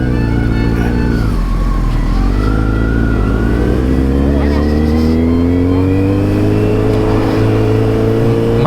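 A Kawasaki Z900 motorcycle on A1 tires accelerates hard, its loud, close engine note climbing steadily through the revs and holding strong to the end, with faint talk underneath.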